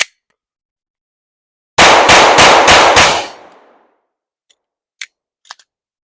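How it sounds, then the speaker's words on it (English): Five quick shots from a Glock 19 Gen 5 pistol, fired as rapid fire. Loud sharp cracks come in a tight, even string over about a second and a half, followed by a few faint clinks. "I'm going to just do a quick rapid fire, center of mass"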